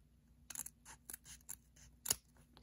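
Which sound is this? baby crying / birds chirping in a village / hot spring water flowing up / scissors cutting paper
scissors cutting paper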